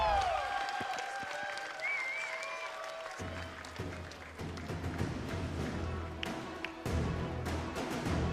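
Crowd at a Call of Duty championship esports event applauding and cheering in a large arena, a dense sustained wash of clapping that swells partway through, with music and hall noise underneath.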